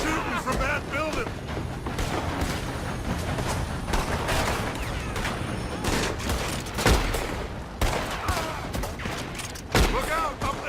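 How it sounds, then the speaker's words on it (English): Dense, sustained gunfire from a building in the Western video game Red Dead Redemption 2, with overlapping shots and booms filling the scene alongside talking voices. "They're shooting from that building."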